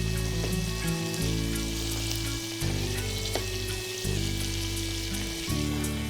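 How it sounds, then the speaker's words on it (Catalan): Garrofó beans for Valencian paella fry in a pan of hot oil with a steady, close sizzle that runs throughout. A low, droning hum sits underneath and cuts out briefly several times. "el garrofó ja va en l'oli calent, ja el tenim igualment tot impregnat d'oli"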